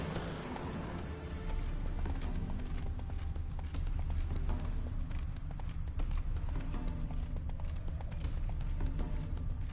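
Roach the horse gallops in The Witcher 3 game, with rapid, steady hoofbeats pounding close over a loud rumbling bed of movement and wind.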